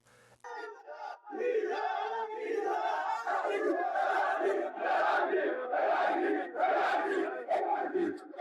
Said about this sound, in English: At universities, the chants grow louder.